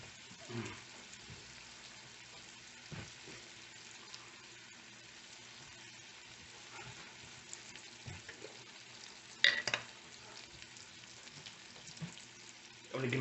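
Steak fries in a pan with a soft, steady sizzle under the whole stretch, broken by a few scrapes and taps of a utensil nearby.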